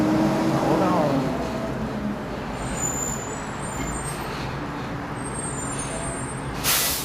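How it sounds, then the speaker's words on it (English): Truck passing on a roadway, a loud broad rumble of engine and road noise close by, with a sharp air brake hiss near the end; a voice speaks faintly underneath. "Can y'all hear me over that truck?"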